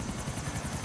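A helicopter in GTA IV The Lost and Damned gives off a continuous, fairly loud rotor drone with a rapid pulsing chop and no voices over it.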